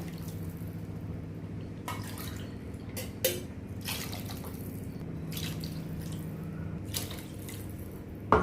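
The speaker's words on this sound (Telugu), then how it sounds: "ఇప్పుడు నేను ఇందులో వాటర్ యాడ్ చేసుకుంటాను" Water is poured into a pot for spicy masala upma, a gentle splashing and trickling stream with intermittent pours and drips, close and moderately quiet.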